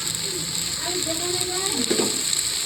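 Spinach leaves sprinkled with cumin powder fry in a pan with a continuous close sizzle, while a voice speaks faintly underneath.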